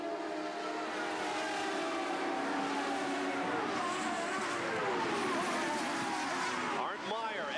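CART race cars on track late in the race, engines whining and sweeping in pitch as they pass, with a sharp Doppler drop near the end over constant crowd and broadcast ambience.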